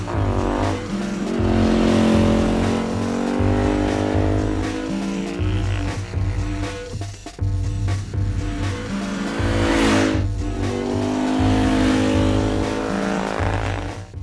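A Can-Am Spyder three-wheeler's engine drones steadily and loudly as it drives, with the pitch rising and falling through shifts and a brief dip in the middle.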